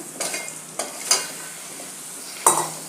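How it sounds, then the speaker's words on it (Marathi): Mutton is stirred in hot oil with onion and tomato for a Kolhapuri mutton fry. A soft sizzle runs under a few distinct scraping clanks of a spoon against the pan, and the cooking sound stands alone. "आणि व्यवस्थित तेलामध्ये मटण परतून घ्यायचं आहे"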